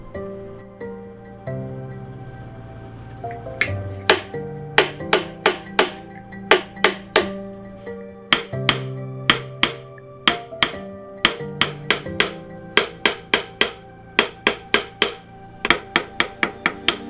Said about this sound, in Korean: 망치로 때리는 모양이 곧 은잔의 외관으로 표현되기에 일정한 힘으로 때려주는 것이 중요합니다